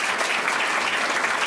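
Brief burst of audience applause at a lecture event, steady dense clapping from a crowd throughout.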